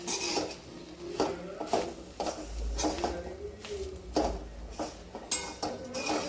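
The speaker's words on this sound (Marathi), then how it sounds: "हे तिखट टाकल्यानंतर छान याला परतून घ्यायचं आहे त्या पद्धतीने" A spoon scrapes and clinks against a pan as red chili powder is stirred and sautéed into a gram-leaf vegetable dish, in irregular close strokes with faint background hum.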